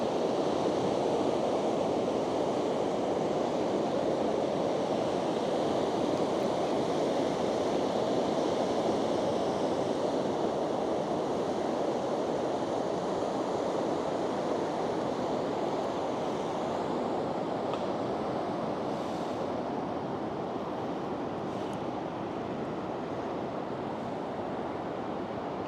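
Surf washes onto a sandy beach in a continuous loud roar of breaking and receding water, steady throughout with some wind buffeting the microphone and no speech.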